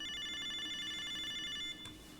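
A video phone in a video game rings with a steady electronic tone pattern, repeating evenly and up close, then stops abruptly near the end, with no talking over it.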